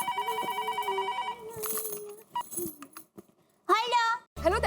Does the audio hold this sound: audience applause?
no